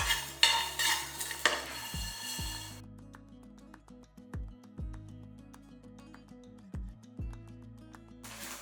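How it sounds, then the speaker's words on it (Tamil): Poppy seeds and curry leaves dry-roasting in a pan for a mutton gravy, with repeated scraping stirs over a faint, quiet sizzle. "ஒரு ஸ்பூன் அளவுக்கு கசகசா எடுத்துருக்கேன் அதையே சேர்த்துக்கலாம் இதுலேயே நம்ம ரெண்டு இனுக்கு அளவுக்கு கருவேப்பிலை இதையே சேர்த்துப்போம் எல்லாமே வறுத்துக்கலாம்"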